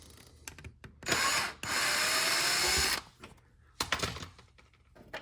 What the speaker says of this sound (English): drill over here with an attachment